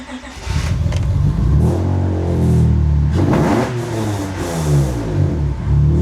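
A CL9 Acura TSX Type S engine fires up nearby and is revved, its pitch climbing and falling in several sweeping surges over a steady idle rumble.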